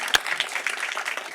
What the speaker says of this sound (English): I think we need to applaud him on that